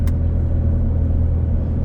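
A V6 Toyota Camry with a five-speed manual transmission rumbles steadily from inside the cabin, its engine drone loud and continuous, with a brief sharp transient at the very start.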